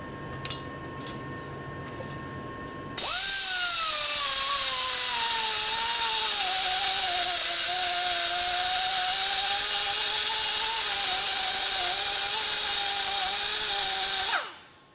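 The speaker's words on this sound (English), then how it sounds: "First you got to get the aluminum ground out." A high-speed rotary grinder cuts aluminum out of the exhaust port of a Harley-Davidson Twin Cam 110ci cylinder head. It spins up after a quiet lead-in, whines loudly with a wavering pitch as it bites into the metal, then winds down.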